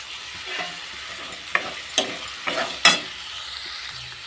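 Tomato pieces fry in a pan over a soft, steady sizzle. A spatula stirs them in several sharp scrapes and clacks, heard up close and alone.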